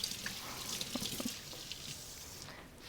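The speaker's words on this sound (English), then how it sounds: "going to put this aside and wash my hands" Hands being washed under a running kitchen tap, a soft steady stream of water with splashes and drips as the hands move, fading quieter toward the end.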